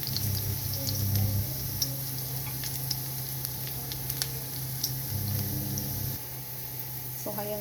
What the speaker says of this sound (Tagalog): Kunting halo-halo lang until maging golden brown ang ating bawang